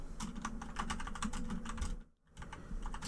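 Someone types on a computer keyboard, producing quick, close, irregular key clicks with a brief pause partway through before the typing resumes.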